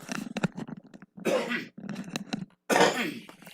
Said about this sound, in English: there's no mute button for my coughs